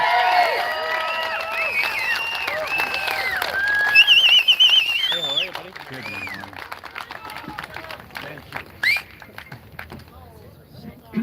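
An indoor crowd at a Max Bernier rally in Hamilton cheers, whoops and whistles loudly at first, then settles into scattered claps and calls with voices underneath.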